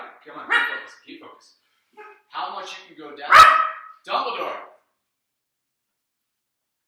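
Dogs bark in short bursts close by, several sharp yips and barks, while someone speaks over them during an indoor weightlifting session.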